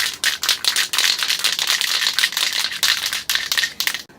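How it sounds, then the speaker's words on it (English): A spray can being shaken hard, its mixing ball rattling in fast, steady bursts for a few seconds with brief pauses between strokes. "make sure you shake that shit up real nice"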